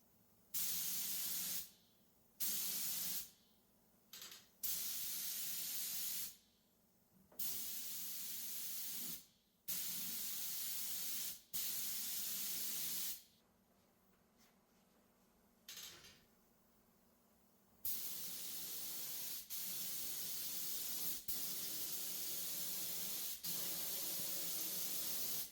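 A paint sprayer blasts paint onto a furniture piece, an accent table, in a workshop, in repeated loud bursts of a few seconds each, separated by short pauses, ending in a longer continuous spray.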